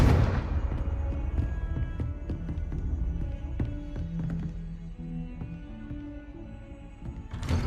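The Confringo fire spell cast in Hogwarts Legacy, landing as a series of hard thunks and booming impacts with scattered tapping hits that fade out over several seconds.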